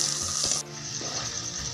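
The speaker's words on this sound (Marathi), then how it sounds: "काळा मसाला 3 चमचे हे आता आपण छानपैकी अजून थोड्या वेळ भाजून घेऊया" Black kala masala roasts in a pan for spicy Puneri misal, giving a continuous close, loud hissing sizzle that drops slightly partway through. No one speaks.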